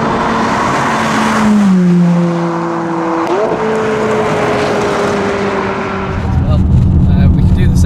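McLaren 570S supercar engine with the powertrain in sport mode, a loud steady roar rising and shifting in pitch through gear changes, with voices talking over it inside the cabin.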